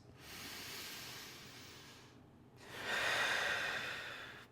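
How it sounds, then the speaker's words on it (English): Two deep, breathy exhales during a standing Pilates stretch, close and airy, separated by a short pause, with the second breath louder than the first. "Take 3 breaths."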